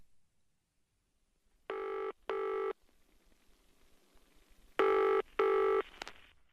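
Two pairs of bright, harmonic telephone ring bursts, the first pair near the start and a second, louder pair a few seconds later, separated by quiet room tone.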